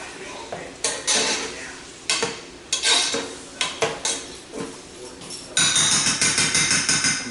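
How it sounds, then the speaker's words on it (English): Ingredients sauteing in a pan for an anime-style ramen, heard mostly as clinks and knocks of a utensil against cookware, irregular bursts of clatter over a low sizzle, then a rapid run of metallic taps near the end. "Continue to let those saute on up there."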